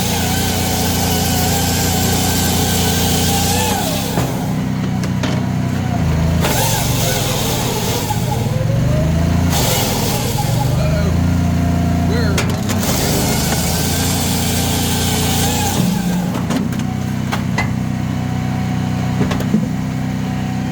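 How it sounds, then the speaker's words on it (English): A Tajfun RCA500 firewood processor runs steadily and loudly throughout, its engine and hydraulics droning continuously while logs are split and advanced, with shifting mechanical tones and occasional clunks but no talk. "You can do multiple functions at once, like while that's splitting, I can be advancing the log for the next cut."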